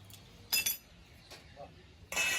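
A metal kadai is set back on the stove in a Bengali home kitchen, giving a few short clinking metallic knocks with quiet gaps between them.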